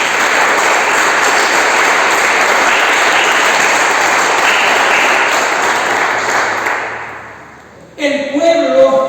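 A church congregation breaks into loud, dense applause during a sermon by a pastor, sustained for several seconds before tapering off, then a voice resumes speaking near the end.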